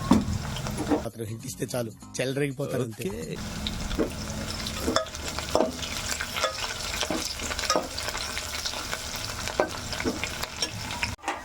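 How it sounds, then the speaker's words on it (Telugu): Onions frying with salt in a pan for vegetable pulao, a continuous close sizzle with frequent spatula stirring and scraping, and a short stretch of music-like sound early on. "ఇలా సాల్ట్ వేస్తే తొందరగా ఆనియన్స్ ఫ్రై అవుతాయంట"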